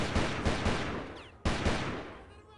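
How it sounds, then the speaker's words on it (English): Gunfire in the video game Delta Force 2 comes as loud, close bursts of shots, a cluster near the start and another sharp volley partway through, each decaying quickly. "I hear gunfire."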